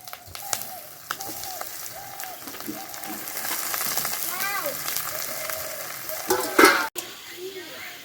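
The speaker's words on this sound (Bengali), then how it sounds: "মাংসটা ভাজা হয়ে গেছে," Chicken meat frying in a pan with already-fried onion, a busy close sizzle and scraping stir, with a brief faint voice and a couple of clanks near the end.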